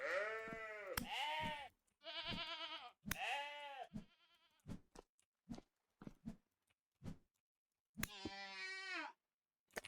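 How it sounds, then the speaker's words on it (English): Several loud, close goat bleats in the survival game Vintage Story, wavering cries in bursts with short gaps between them, mixed with sharp clicks and thumps. "Oh, there's that goat I've been hearing."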